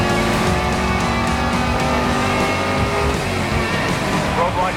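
Race cars in Need for Speed roar along with continuous engine drone and road rumble, while police radio chatter talks over them throughout.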